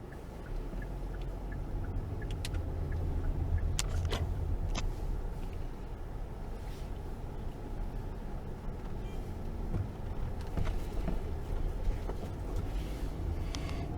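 A car rolls slowly through the streets of San Jose De Ocoa, a continuous low engine and road rumble heard from inside, with faint clicks and knocks over the steady drone and no talking.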